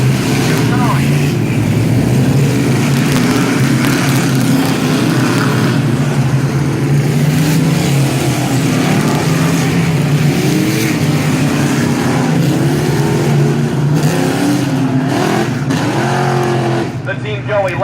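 Small-block modified race cars roar together at Lebanon Valley Speedway, a loud, steady wall of engine noise with rising and falling revs that stays dense throughout.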